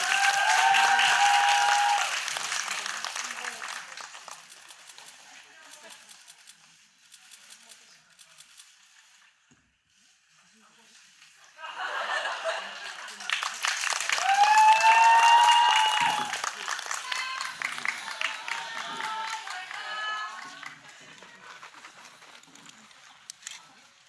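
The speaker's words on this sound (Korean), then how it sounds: "퇴장하시기를 바라면서 큰 박수 주세요" A film-screening audience gives a big round of applause as actors leave the stage, in two loud waves of dense clapping separated by a quieter lull, with cheering voices rising in the second wave.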